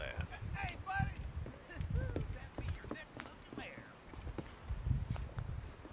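Horse hooves clopping in the Red Dead Redemption video game, a steady walking rhythm of muffled thuds running throughout, with voices and whistled or tonal game sounds layered over the top.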